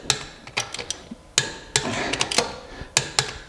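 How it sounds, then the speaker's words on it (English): A torque wrench tightening the wheel lug nuts on a 2010-2017 F10 BMW 535i: sharp metallic clicks and ratcheting taps in irregular bursts, close and fairly loud, with no talk. "anytime you take a wheel off, you gotta make sure and torque them"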